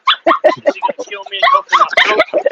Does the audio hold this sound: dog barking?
yes